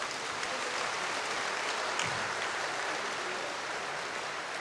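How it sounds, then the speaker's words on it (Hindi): An audience claps steadily throughout at a Hindi spiritual gathering, a dense, even wash of applause from a large crowd, loud and continuous with no voices on top. "सभी भाई बहने जोर से ताली बजाएंगे"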